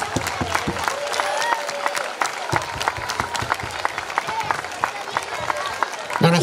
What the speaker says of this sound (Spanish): solamente un aplauso para todos